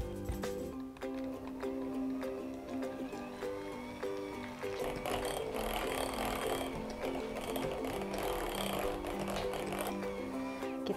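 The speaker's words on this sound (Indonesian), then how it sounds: "Sekarang tinggal kita kocok jadi satu menggunakan mixer dengan kecepatan sedang," Electric hand mixer beating pandan cake batter in a bowl, a steady continuous mechanical whir that rises in intensity partway through as the speed increases, with no talking.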